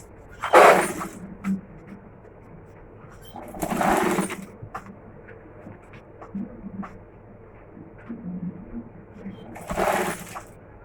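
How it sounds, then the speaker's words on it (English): A sewing machine stitches abaya fabric in three short whirring bursts, near and fairly loud, with a person talking quietly in the pauses between runs. "make sure as you're sewing it, you adjust your fabric very well to relax it."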